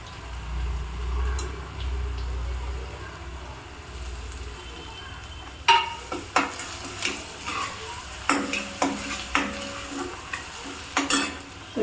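Grated radish and onion sautéing in a pan over low heat, a soft sizzle at first, then a run of sharp spoon scrapes and taps against the pan in quick, irregular strokes.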